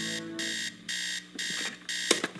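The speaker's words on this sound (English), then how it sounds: "Why is that the same sound as your alarm from earlier?" An electronic alarm beeps in four evenly spaced, loud bursts, each a steady high tone, with brief clattering noises near the end.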